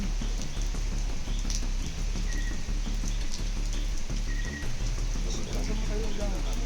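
Rain falls steadily in a dense, continuous hiss and patter, with faint voices under it.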